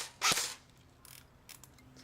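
A sharp airsoft pellet impact on a can target, one loud brief crack near the start, then a quiet room with a couple of faint later clicks.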